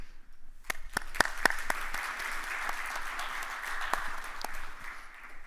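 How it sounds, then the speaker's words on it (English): Applause from the audience at a retail and commerce media breakfast briefing in the UAE: a few sharp, distinct claps start it off, then a moderate, sustained round of clapping from a roomful of people. "please give yourselves a round of applause"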